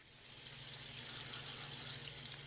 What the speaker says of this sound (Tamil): அதே பேனில் எடுத்து வச்சுருக்க கரும்பு சர்க்கரையை ஆட் பண்ணி அது கொஞ்சமாக தண்ணி ஆட் பண்ணால்